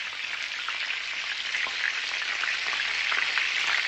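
Semolina, potato and soybean snacks are dropped one at a time into hot oil over a medium gas flame, giving a steady, loud, close sizzle with small crackling bursts throughout.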